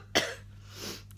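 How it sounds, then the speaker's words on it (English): A single sharp cough from a person with a bad cough bursts out, followed by a softer breathy trailing sound, close and fairly quiet over a steady low hum. "has anyone else got this horrible cough that's going around?"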